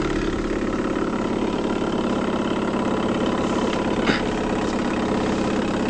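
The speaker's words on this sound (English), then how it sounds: "It's a trolling motor." A 1974 Johnson 6HP outboard trolling motor idles steadily, a loud continuous low putter with a brief knock partway through.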